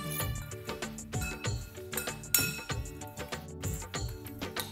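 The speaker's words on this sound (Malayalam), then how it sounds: "ഒന്ന് ചേർത്ത് ഇളക്കാം." A spoon stirs a green gram sprout salad with shallots, salt and pepper in a bowl, making repeated close clinks and taps in an uneven rhythm, with no talk.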